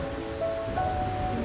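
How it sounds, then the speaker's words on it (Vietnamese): Rain falls in a steady, close, even hiss with faint soft tones underneath and no break or change. "Cô đang ngắm mưa."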